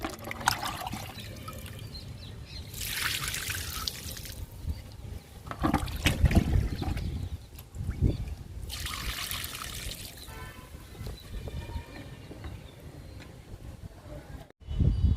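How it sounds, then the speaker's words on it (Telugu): Liquid fertilizer is poured onto potted ginger plants growing in tubs, making a few distinct splashing trickles close by with quieter shuffling sounds between them. "ఈ అల్లం మొక్కలకు కూడా లిక్విడ్ ఇచ్చేద్దాము"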